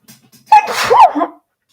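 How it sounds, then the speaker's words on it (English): A single loud sneeze bursts out after a brief quiet intake of breath, close and abrupt, with no talk around it. "I'm about to sneeze and I apologize."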